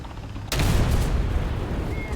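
Machine gun fire in a tank video game breaks out suddenly after a short quiet lead-in, then carries on as a dense, loud, continuous rattle of rapid shots until the end.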